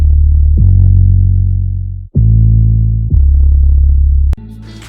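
A driven, slightly distorted 808 bass plays long sustained booming notes that duck sharply where a kick hits, with a pitch glide into each note, loud and clean in a beat production context.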